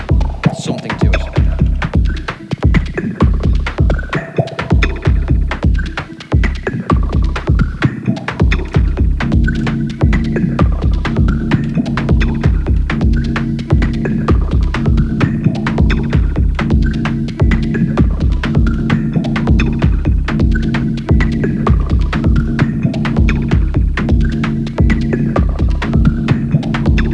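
An Elektron Monomachine paired with a SOMA Pulsar-23 drum synth, with sample rate reduction dirtying the tone: a loud, pulsing, throbbing bass beat under a gritty hum and buzzing drone that runs continuously throughout.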